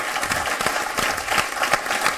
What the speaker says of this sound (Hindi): फिर से ताली।